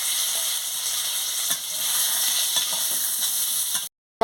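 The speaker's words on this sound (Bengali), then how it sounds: "পটলগুলো ভাজা হয়ে গেছে, আমি এবার আলুটা ভেজে নিচ্ছি" Steady, crackling sizzle of potatoes frying in hot oil, loud and close, with a few soft stirring scrapes before it cuts to silence at the end.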